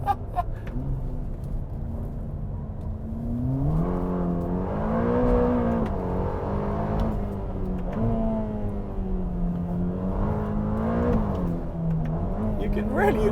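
A 2020 Ferrari Roma engine revs up as the car accelerates, its tone rising and falling in waves, heard from inside the car with a person talking and exclaiming over it.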